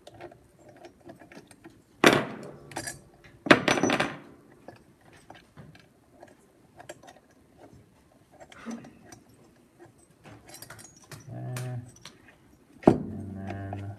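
A wrench backs out cylinder head bolts on an engine, giving sharp ratcheting and metallic clicking bursts with loud clanks at intervals, close by, amid quiet handling noise.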